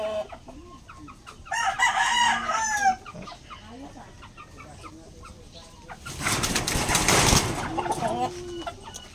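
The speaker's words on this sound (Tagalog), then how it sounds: "Ating mga pulet, mga white kelso pulet." White Kelso pullets in a backyard rooster farm cluck and crow in bursts, with a louder flurry of calls early on and a noisy stretch of fowl sounds later, birds close by and people talking faintly in between.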